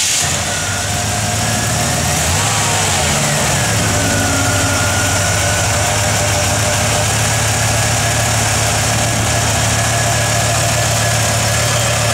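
A 1956 Chevrolet 3100 truck engine idles steadily and loudly up close, a constant low rumble with a faint whine above it, unchanged for the whole stretch with no talk.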